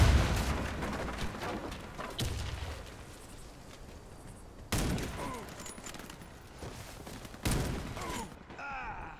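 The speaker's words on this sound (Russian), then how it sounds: "Кидаю гранату" Grenade blasts in the Warface shooter, several loud booming bursts standing out against a steady wash of distant gunfire and battle noise, with faint voices beneath.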